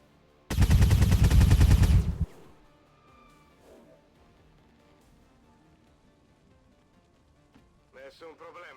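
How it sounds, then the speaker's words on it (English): A single loud burst of automatic gunfire aimed at turrets in XCOM 2 Long War of the Chosen, about a second and a half long, followed by quiet background and a brief voice at the end. "Start shooting the turrets"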